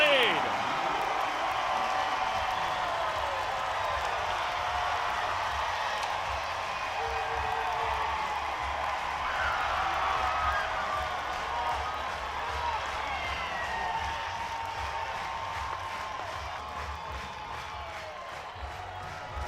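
A home crowd at an Arkansas softball game against Ole Miss cheering after a home run, with a steady wash of applause and shouting throughout while a commentator talks over it.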